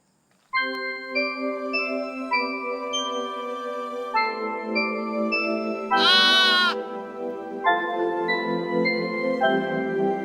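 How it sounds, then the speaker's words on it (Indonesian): A young goat bleats in long, wavering cries, loud and close over a musical backdrop, with one sharper higher bleat partway through. "Loh, anak kambing ini yang punyanya mana ya?"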